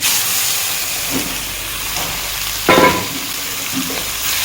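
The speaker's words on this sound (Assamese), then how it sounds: "হাই ফ্লেমত পূৰা ভাজি থাকিম" Loud, steady frying sizzle and hiss fill the clip, with a few faint clinks and one brief sharper scrape near the middle.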